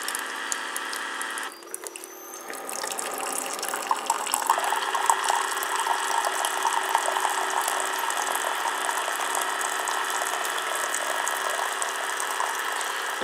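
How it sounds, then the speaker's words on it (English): A Keurig K Compact coffee maker runs its first rinse cycle, a steady pump hum and trickling water that start after a brief pause and continue evenly, fairly quiet. "this is essentially doing like a kind of like a rinse cycle, like a first time rinse cycle"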